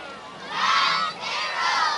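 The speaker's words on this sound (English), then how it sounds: "late arriving student crowd" Student crowd at a high school football game cheering and shouting in two loud swelling bursts, a dense roar of many young voices at a distance.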